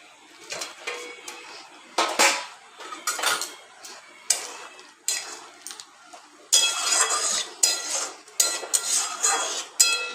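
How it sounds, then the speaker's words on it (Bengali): Paneer goes into a pan and is stirred with a metal spatula, giving repeated clinks and scrapes against the cookware in irregular bursts, close and fairly loud, with no voices. "আমি পনিরটা দিয়ে দিলাম"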